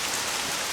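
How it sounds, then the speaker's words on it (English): Rain falls in the video game Lost Odyssey: a brief, even hiss of steady downpour, fairly loud and without speech. "Oh my god, it's raining!"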